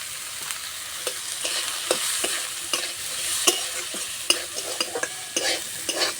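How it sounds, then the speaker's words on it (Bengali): Vegetables with chilli powder, turmeric and cumin powder stir-fry dry in a pan without water, a steady sizzle running throughout under repeated sharp scrapes and taps of a spatula. "জল দেবো না, এইভাবে শুকনো শুকনো করে রান্না করে নেব।"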